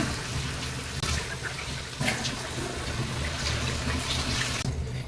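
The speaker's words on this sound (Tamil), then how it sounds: "இப்போ நான் கொஞ்சம் தண்ணி ஆட் பண்ணிக்கிறேங்க" Water pours steadily into a pan of cooking prawn fry for several seconds, a continuous splashing trickle with slight surges, close by and without talk.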